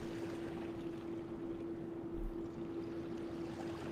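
Submarine diesel engine in the UBOAT video game running at the surface, a steady low droning hum with a constant tonal whine, set against wind and water wash, no talk.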